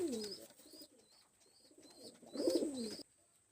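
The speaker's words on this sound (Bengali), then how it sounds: "আমি এখানে দুটো দুই ব্রিডের কবুতর দেখাচ্ছি" Pigeons coo in soft, repeated low phrases, with a louder throaty burst toward the end, recorded close in a quiet space alongside faint high chirps.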